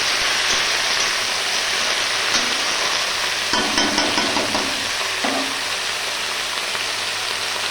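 Malabar spinach (pui shak) stir-fries in hot oil, a steady close sizzle like light rain, with scraping stirring strokes and brief bursts of louder crackle as the leaves are turned.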